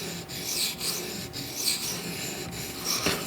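Benchmade Griptilian knife blade drawn across a Matrix sharpening stone, close rhythmic gritty rasping strokes at a steady pace with brief gaps between passes.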